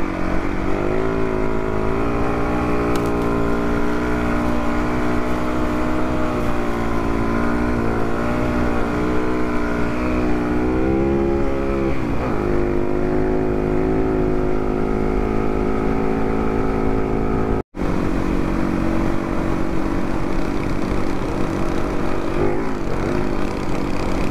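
A Yamaha WR450F motorcycle drones steadily through a ride on Fraser Island, its engine note rising and falling as it shifts through the gears, loud and continuous with a brief dropout near the end.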